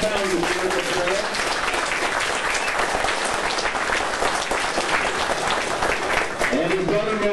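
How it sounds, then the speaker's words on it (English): A crowd at a heritage railroad's 50th anniversary claps steadily and loudly for several seconds, a dense patter of applause, with a voice faintly audible at the start and end. "Can we give him a round of applause?"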